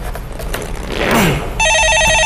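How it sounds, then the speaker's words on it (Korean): Telephone ringing at a Korean stock-market call-in broadcast desk: a steady electronic ring with repeating tones starts partway through after a brief rustle and continues loud and clear to the end, with no talk over it. "예, 전화 받아보겠습니다."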